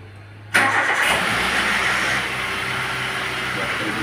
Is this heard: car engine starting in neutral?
yes